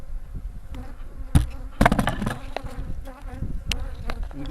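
Honeybees buzzing steadily at an opened hive, a dense close drone broken by sharp clunks and knocks of hive parts being handled.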